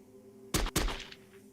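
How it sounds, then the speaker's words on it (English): Two gunshots in the Chaos;Head Noah video game, sharp booming reports fired in quick succession, each followed by a short echoing tail inside a dome over a faint steady hum. "Bursts of fire erupted from the guns at the same time, and the noise of the gunshots echoed throughout the dome."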